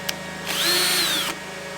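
A power drill driving screws on an Antminer L3+ mining machine whirs once for under a second, a steady high-pitched motor whine that rises and falls, close by with no talk.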